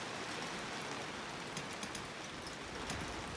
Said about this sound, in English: just happy we're getting rain